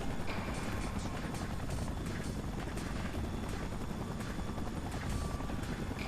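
A helicopter from the Spider-Man 3 video game drones in a continuous, steady rotor wash with faint buzzing, moderately loud and unbroken, with no voices over it.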